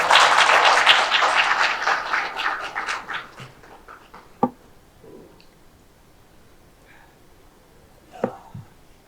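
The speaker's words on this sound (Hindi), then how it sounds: "आप सभी हृदय खोल के भी ताली बजा स्वागत करें" An audience claps to welcome a guest at a book-launch stage event in Raipur, the applause loud at first and then thinning out and fading, followed by a couple of isolated knocks.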